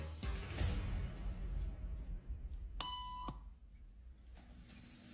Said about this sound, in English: Beep means stand up.